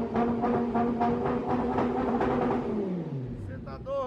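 A small 330cc scooter engine revs and whines, its pitch climbing then dropping away, with a voice talking over it near the end.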